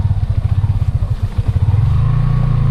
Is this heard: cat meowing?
no